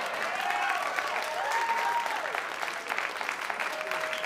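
Steady applause fills a comedy club audience, with whistles and cheers rising over the dense clapping, which stays even throughout.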